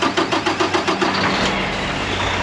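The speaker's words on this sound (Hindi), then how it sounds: "पहले सिर्फ इसकी आवाज़ सुनो मालूम ही नहीं पड़ेगा कि ट्रक स्टार्ट है।" A brand-new Kenworth truck engine idles with a low, steady rumble after a few quick rhythmic pulses at the start, close and moderately loud with no talking.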